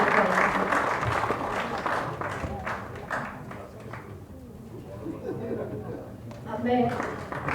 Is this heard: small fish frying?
no